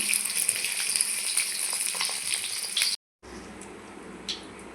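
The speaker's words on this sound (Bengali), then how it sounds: "ডিমগুলো লাল করে ভেজে দেবো।" Eggs fry in hot oil in a pan with a loud, dense, steady sizzle that cuts off briefly, then returns quieter with a softer crackle.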